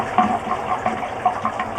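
Water in a Transit campervan's recirculating shower is pushed back through the filters. It makes continuous gurgling and splashing with small irregular bursts and no talking.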